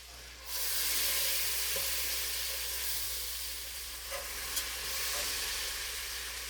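Macaroni and cheese sizzles steadily in a hot pan while a whisk moves through it, giving a continuous loud frying hiss with faint scraping and a few soft knocks, heard close with no talking.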